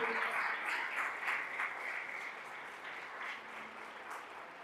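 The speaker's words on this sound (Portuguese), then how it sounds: "Se você crê, dê a melhor salva de palmas que você puder para o Senhor." A Brazilian church congregation gives sustained applause during worship, a soft, dense, continuous patter of many hands that gradually tapers off over nearly five seconds.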